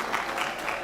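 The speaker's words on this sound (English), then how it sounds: "Please, let us clap." A crowd at a university convocation ceremony applauds, a brief, dense burst of clapping from many hands at moderate loudness.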